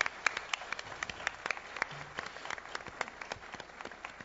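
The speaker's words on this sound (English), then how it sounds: "a big round of applause for everyone involved with the Lost Planet project" A press conference audience at E3 2008 applauds, a scattered mix of many hands clapping at moderate distance, steady throughout without voices standing out.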